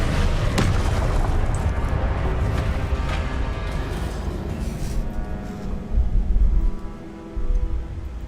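Incendio fire spell cast in Hogwarts Legacy, a loud burst followed by roaring, crackling flames and rumbling booms over several seconds.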